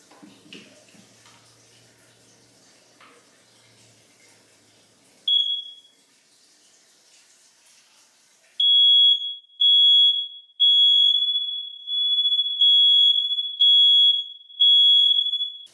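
A household smoke alarm under test close up, giving a single loud piercing beep and then a series of repeated shrill pulses after faint background rustling, with no talking.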